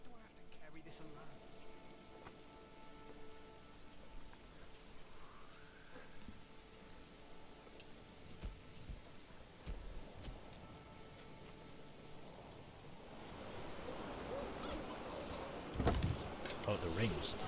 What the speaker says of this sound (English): Oh, it's starting to rain. Some spring rain in April.